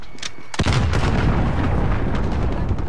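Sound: cruise missile strike exploding in Call of Duty: Modern Warfare video game

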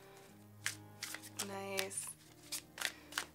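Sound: shuffling a brand new tarot card deck

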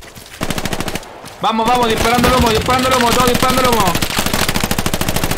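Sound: machine gun fire in the video game Hell Let Loose

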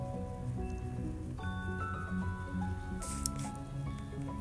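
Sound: mashing cooked moong dal with a masher

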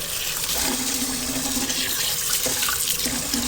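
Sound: washing rice in a pan with water

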